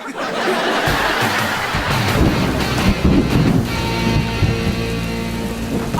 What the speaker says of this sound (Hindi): आज तो जम के बारिश हो रही है।